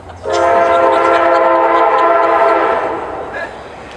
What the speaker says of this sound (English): Yes, there's a great timing train.